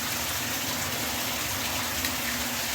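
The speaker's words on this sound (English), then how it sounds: "Gonna fill the tub." Water gushes from a tap into a hotel bathtub as it fills, a loud close-up rushing roar that holds steady throughout.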